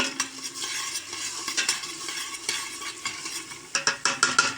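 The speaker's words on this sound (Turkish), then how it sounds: "Soğanlarım kavruluyor." Chopped onions sizzle and fry in a pan while being stirred, with steady crackling broadband hiss and a few sharper scraping stirs near the end, close and fairly loud with no talking.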